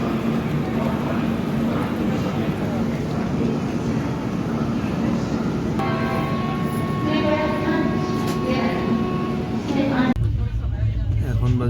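Inside a compartment of the Kumbh Express pulling out of Patna, a steady rumbling train ride drones continuously with wheel noise and rattles, a tonal squeal partway through, and a voice talking over it.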